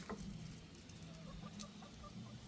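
Chickens clucking faintly and intermittently in a backyard flock as a dog checks their pen, soft scattered calls over a low steady background hum.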